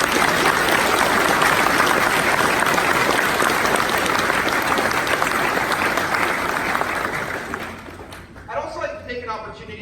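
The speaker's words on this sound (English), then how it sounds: "we'd like to give them a round of applause for helping us out" Loud, dense applause from a graduation audience fills the space almost continuously, then thins and fades near the end as a voice begins to speak.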